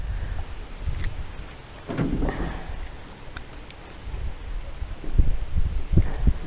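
Thunder rolls low and heavy during a thunderstorm at a remote bass pond in Pennsylvania, with rain in the background and no talk.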